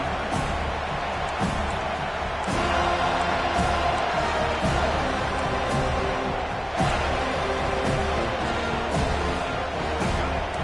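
Home crowd roaring steadily through a college football game on third down, with Alabama quarterback Milroe dropping back, a broad continuous cheering wash with swells around the middle and end.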